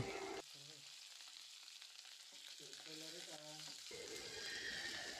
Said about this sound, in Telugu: ముందుగా పోపు దినుసులు ఇలా వేయించేసుకుని వేగిపోయాక కొంచెం పచ్చిమిర్చి కరివేపాకు వేసుకుని వేయించుకోవాలి